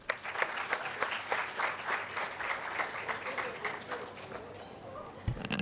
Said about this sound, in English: I think Bangladesh deserves another round of applause